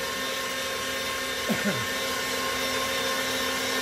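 A meat grinder steadily whirs through venison on a second grind for deer sausage, a continuous motorized hum with a faint brief clunk partway through.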